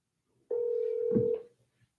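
A single long ringback tone sounds on an outgoing phone call, a clean steady beep lasting about a second and heard clearly with nothing else behind it.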